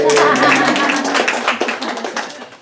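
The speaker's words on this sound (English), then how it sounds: "You can applaud on that one." Audience clapping for a speaker at an Open Circle group gathering, dense and lively at first, then thinning and fading over a couple of seconds, with a voice or cheer briefly mixed in.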